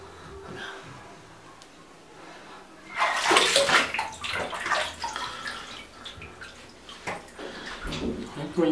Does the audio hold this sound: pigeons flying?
no